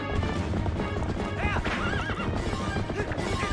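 A horse in the game Zelda: Twilight Princess gallops with steady rhythmic hoofbeats and lets out a couple of loud whinnies over busy game sound.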